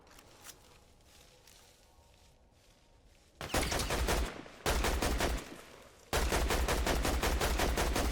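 Rapid automatic gunfire in a Fortnite Zero Build match, loud sustained bursts of shots starting partway through and repeating after a short break, with quieter game ambience before.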